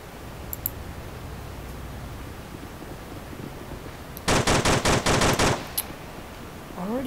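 Rapid automatic gunfire in the Men of War: Dark Rising war game, a tight burst of about eight shots in quick succession, loud and close over a low ambient bed, with a faint clatter afterward.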